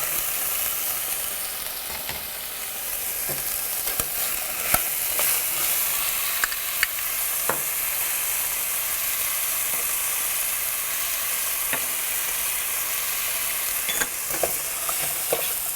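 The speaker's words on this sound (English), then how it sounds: "I'm just going to stir all this together and try to coat the potato with all the different spices and the ginger" Potatoes with spices and ginger stirred in a hot pan, steady close sizzling with scattered scraping clicks of the spoon throughout, no talking.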